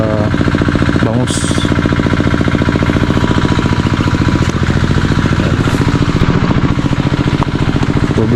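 Diesel engine water pump at a fishpond on a farm, a loud close rapid chugging putter running steadily throughout, with a brief clank near the start.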